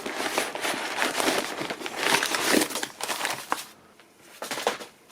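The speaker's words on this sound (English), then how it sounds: "Better to tear it than cut it." Tearing open a paper mailing package of She-Ra charms, close and fairly quiet: crinkling, ripping paper in bursts for a few seconds, then brief pauses and a final crinkle.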